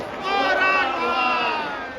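An audience welcoming a revered guru with loud cheering and crowd noise, a sustained swell of many voices rising and holding, with clapping blended in beneath.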